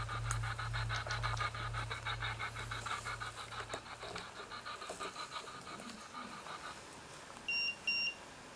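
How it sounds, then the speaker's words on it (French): A low hum gives way to quiet rustling, then two short electronic beeps from a handheld K2 EMF meter sound near the end, small and clear. "Le K2 il a bipé."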